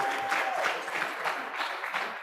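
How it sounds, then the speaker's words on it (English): An audience claps steadily, a dense wash of applause at moderate loudness with no pause. "Another round of applause for Andy."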